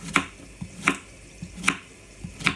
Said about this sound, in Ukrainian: Ми нарізаємо кабачок